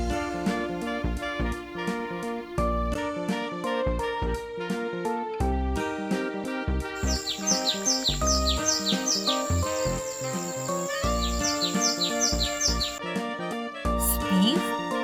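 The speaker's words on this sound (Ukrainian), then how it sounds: "пташки." Birds chirping in quick, high bright calls over a steady musical background, the tweets clustered in the middle and returning near the end.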